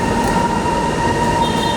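An MRT train passes close by with a loud, continuous rumble and a steady high metallic whine from the rails, sustained throughout without voices.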